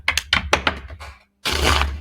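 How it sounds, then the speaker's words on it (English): A deck of tarot cards is shuffled up close: a quick series of light clicks and taps as cards are handled, a brief pause, then a soft riffling rush. "I'm gonna do one more shuffle on this."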